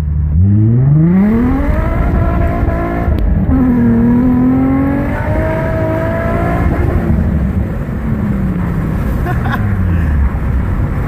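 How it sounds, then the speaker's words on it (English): Nissan G35 Coupe fitted with an aftermarket throttle body, accelerating hard with the engine note climbing through the gears and a sharp backfire pop partway through. The sound is loud and close. "oh shit that backfire"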